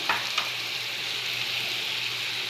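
Ethiopian meat tibs fry in a pan with a steady, close hiss of sizzling oil and a couple of soft clicks near the start, and no one speaks.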